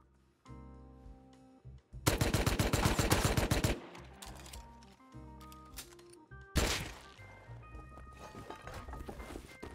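Rapid automatic gunfire from another player in Rust, two dense bursts of close, loud shots, the first lasting nearly two seconds and the second fading out, amid music-like tones and movement noise.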